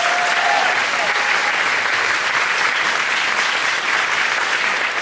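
Audience applause welcoming speaker Michael Mirdad at a talk, a steady dense wash of clapping from a large crowd, loud and continuous throughout with no voices over it.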